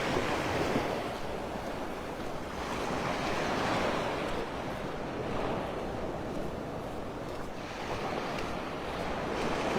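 Surf rolls in continuously along Vanderbilt Beach in North Naples, Florida, with a broad steady wash of waves and gusting wind buffeting the microphone on a morning beach walk, no voices.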